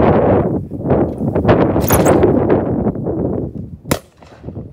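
A single sharp gunshot cracks out near the end, loud and close, after several seconds of rustling, wind-blown outdoor noise.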